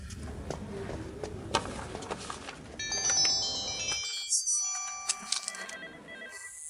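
A phone ringtone plays a bright, tinkling electronic melody at moderate volume. Muffled room noise and faint voices sit underneath it.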